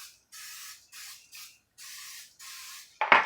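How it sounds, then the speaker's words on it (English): Cooking spray hisses onto lined baking pans in six short, even bursts separated by silence, ending with a louder clatter up close. "I'm also going to spray these with a little cooking spray"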